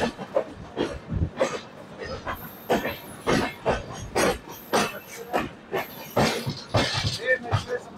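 A passenger train running from Mumbai to Lonavla rumbles and clatters with repeated rhythmic knocks and bursts of hiss, heard from on board at moderate volume, with people's voices mixed in under the rail noise.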